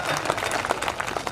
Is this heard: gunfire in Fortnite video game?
no